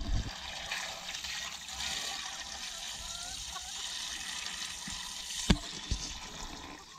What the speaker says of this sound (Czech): vezmu hadici, zaleju vodou